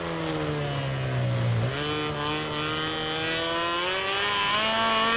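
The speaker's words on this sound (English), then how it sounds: "I do love the sound of the KTM" A KTM racing motorcycle engine in the MotoGP 17 video game at Losail, Qatar, holds a high steady whine that dips and rises sharply at a gear change, then climbs again, loud and continuous.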